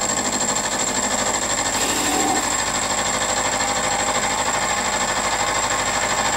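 Steady metal cutting on a lathe working a Stuart Models S50 engine casting under power feed, a continuous grinding scrape with a high whine held evenly throughout, brief louder rasp partway.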